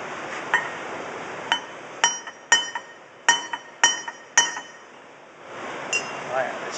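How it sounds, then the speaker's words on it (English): A scored pane of glass is tapped from beneath to split it along a cutter line, giving about a dozen bright, ringing clinks spaced irregularly, close and clear, with no talking. "okay, he's going to split this piece of glass in half."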